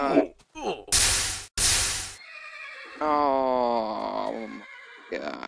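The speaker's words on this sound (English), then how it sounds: "Oh, it's a babby horsey, or whatever." A baby horse in the Minecraft Mo Creatures game gives a loud, wavering whinny after a few sharp bursts of game noise, alongside someone talking and reacting.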